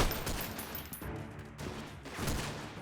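Gunfire from squads of units in a guerrilla warfare strategy game, a dense, continuous burst of overlapping shots rattling for about three seconds, loud and close, with no voices over it.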